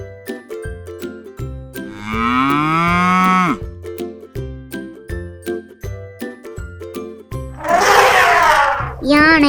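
A cow moos twice, each a long, loud, drawn-out low call about two seconds apiece, set against steady background music with a tinkling rhythmic accompaniment.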